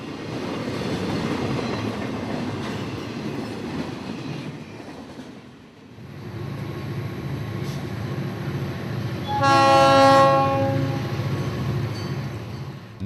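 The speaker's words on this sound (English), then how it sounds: "The train is almost all trailers on flat cars that come off of CSX's train Q127" A Florida East Coast freight train of trailers on flatcars rolls steadily past with a constant rumble and clatter of wheels, and a loud harmonic horn blast sounds about two-thirds of the way through.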